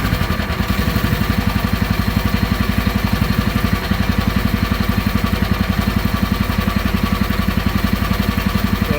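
A Chinese mini excavator's engine idles steadily and close by, a dense, even chugging with a fast regular pulse and no talk over it.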